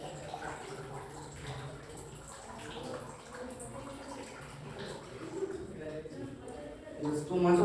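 Water drains and gurgles out of a handmade digital water computer, a modest liquid trickle running beneath voices throughout.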